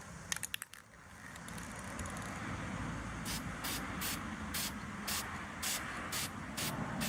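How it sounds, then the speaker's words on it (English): Spray paint hisses steadily onto an RV cover, a faint continuous spray with short rhythmic bursts toward the end and a few clicks at the start. "So I'm going to spray this, let it dry, and then put it back on and see how it looks."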